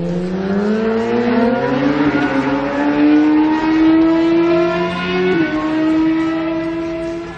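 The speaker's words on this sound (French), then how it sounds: "Le 4 cylindres marche vraiment très fort" A Kawasaki four-cylinder endurance racing motorcycle engine revs loudly and steadily at the 2012 Bol d'Or, its high whining pitch climbing through the gears with a brief dip near the end.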